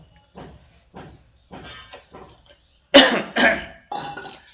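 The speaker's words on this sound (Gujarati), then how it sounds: "લસણ ખાધું ને એટલે ઉધરસ આમ" Several sharp coughs, loud and close, come in quick succession near the end from someone coughing after eating garlic in a home kitchen, following softer scattered household sounds.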